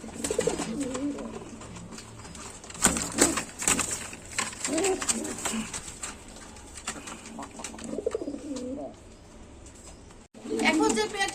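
Native farm pigeons coo nearby in repeated throaty bursts, partly masked by someone speaking over them for most of the stretch.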